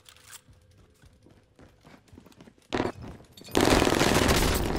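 A light machine gun in a first-person shooter game rattles off sustained bursts, loud and close, after a stretch of quieter scattered shots and movement.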